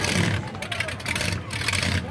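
Monster truck engine revving at an arena show, a loud rough engine roar rising and falling in short surges, with crowd noise and an announcer talking over it.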